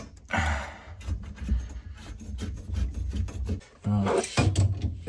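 Close, rough rubbing and rasping strokes while a part is cut away during a CSWC removal, with breathy pauses between the cuts.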